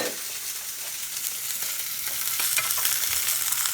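A sirloin steak frying in a pan, a loud, close, continuous hiss and sizzle that grows slightly stronger over a few seconds, with no voices.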